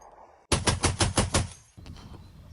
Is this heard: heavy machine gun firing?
yes